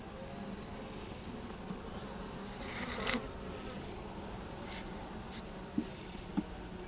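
A queenless honeybee hive hums with a steady, dense buzz of agitated bees, close and continuous, with a few faint knocks and taps near the end.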